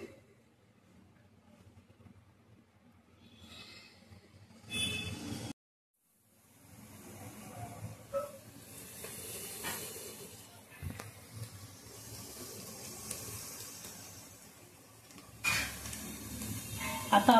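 Chopped onion frying in melted butter for pav bhaji, a soft, steady sizzle and hiss from the pan with occasional clinks and stirring, faint and continuous apart from a short silent gap.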